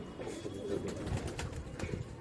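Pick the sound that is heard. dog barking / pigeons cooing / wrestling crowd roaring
pigeons cooing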